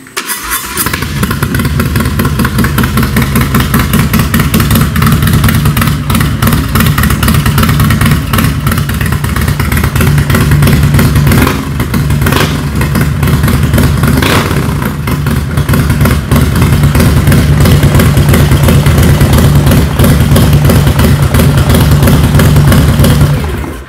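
A 2018 Harley-Davidson Sport Glide with a Stage 2 kit cranks over and settles into a loud, close, lumpy V-twin idle that runs steadily for about twenty seconds with no one talking.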